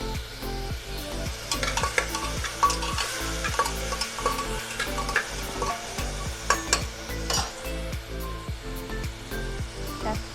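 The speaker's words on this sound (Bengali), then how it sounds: "একটু নাড়াচাড়া করে নেবো" White potato curry stirred in a pan, a spoon scraping rhythmically against the metal over a steady sizzle of frying, with repeated clinks through the whole stretch and no voices.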